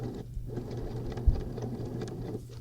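A sewing machine stitches fabric for a tote bag with a steady, close mechanical whir and a low hum, one brief knock partway through, no voices.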